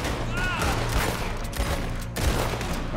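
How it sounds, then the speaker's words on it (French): Gunfire in the video game Red Dead Online: a dense, continuous fusillade of shots crackling throughout, with a few sharper close reports standing out. "Je sais pas qui me tire dessus, mais on tire dessus."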